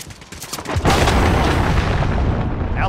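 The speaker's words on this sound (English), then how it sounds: "Enemy cruise missile." A cruise missile strike explodes in the video game Call of Duty Modern Warfare: a loud, close boom bursts out and rolls into a sustained, heavy rumble that carries on without fading.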